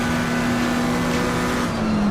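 A steady, droning BMW race car engine in a VR racing game at Bathurst holds a constant loud tone throughout, with a faint whoosh of another vehicle passing midway.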